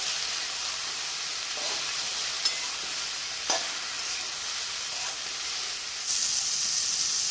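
Steady sizzling and hissing from a hot pan as water lily stems stir-fry with green chili, with occasional scrapes and clicks of a utensil stirring, close by, no talking.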